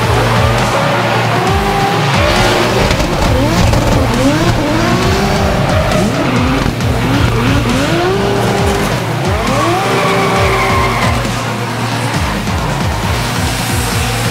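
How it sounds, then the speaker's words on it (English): A hatchback drift car's engine revs hard and rises and falls in pitch at a Formula Drift event while tires squeal and skid continuously, loud and close throughout. "So this is the world's first hatchback drift car."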